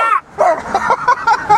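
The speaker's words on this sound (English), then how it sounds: "Watch out for the dog!" A loose dog outdoors near a vehicle gives a quick series of sharp yips and barks, about half a dozen in under two seconds, loud and close.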